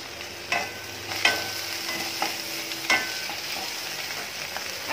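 Thoothuvalai leaves and betel leaves fry in a pan with a steady sizzle, broken by several sharp utensil scrapes as they are stirred; no one speaks.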